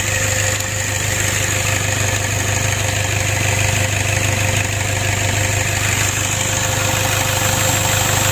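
Toyota Innova diesel engine running with a noticeable shake, a steady mid-pitched idle with a constant vibrating hum and faint knocking, close and loud throughout.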